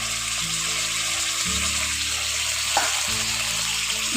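Water goes into sliced ridge gourd cooking in spices in a pan, giving a hissing sizzle and frying crackle alongside short stirring scrapes, close and fairly loud with no voices.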